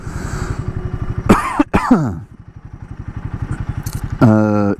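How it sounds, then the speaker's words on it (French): A couple of sharp coughs up close over the steady putter of an idling Royal Enfield Himalayan 450 motorcycle engine, which revs briefly at the end. "Je suis en train de tousser un peu"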